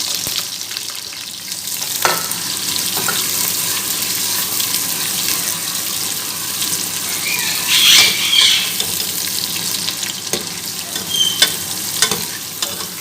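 Sliced onions frying in hot oil inside a pressure cooker, a loud steady sizzle running throughout with stirring scrapes and a brief brighter crackle partway through, close up with no talking.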